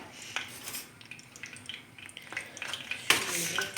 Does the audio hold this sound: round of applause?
no